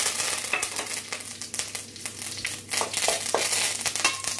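Dried red chillies and curry leaves sizzle and crackle in hot oil in a pan, a steady close frying hiss broken by a few sharper pops and stirring scrapes, with no voices.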